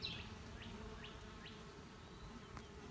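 Honeybees festooning and building comb on a top bar in a newly settled hive, a low continuous buzzing drone with a few nearer individual bees passing, soft and steady.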